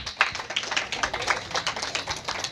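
An audience claps to welcome students at a church Christmas and Sunday school anniversary event: a dense burst of hand claps with quick, uneven rhythm, fairly close and loud, without speech.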